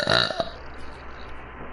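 A woman's short, loud burp at the very start, brief and resonant, fading into quiet room background with a faint voice sound near the end.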